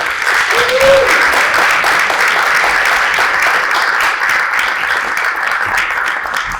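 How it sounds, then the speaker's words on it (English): Sustained applause from an audience at a school district's annual staff retreat, dense clapping at a steady level for several seconds, with a brief voice near the start. "just give them a little round of applause"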